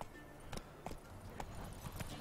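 Hoofbeats clip-clop in a steady rhythm, a horse galloping in The Witcher 3 video game, over a low ambient background, moderately loud and close.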